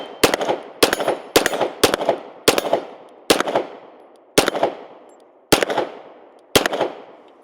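Unsuppressed Beretta 92X pistol firing supersonic rounds: about eleven sharp, loud shots in uneven bursts and singles, each with a ringing echo tail, no talk.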